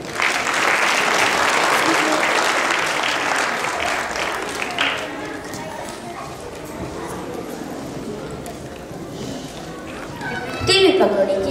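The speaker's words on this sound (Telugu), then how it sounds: "చప్పట్లు." Steady audience applause at a Manabadi cultural program in Phoenix, a dense wash of clapping that is loudest at the start, eases slightly in the middle and swells again near the end.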